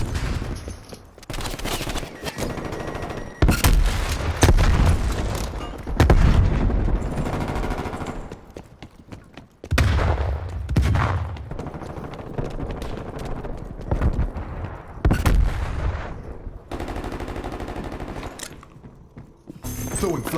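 Video game firefight with rapid automatic gunfire and a flashbang grenade, dense bursts of shots and bangs filling most of the stretch with brief lulls, loud and close.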